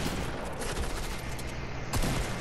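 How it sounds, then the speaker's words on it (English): Sustained gunfire in Fortnite, a dense continuous crackle of shots with a heavier impact near the end, loud and close with no talking. "this is basically the part to where I start getting shot at in just a second"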